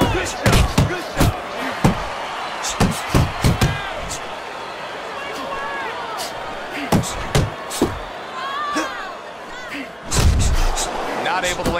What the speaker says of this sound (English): Throw that uppercut.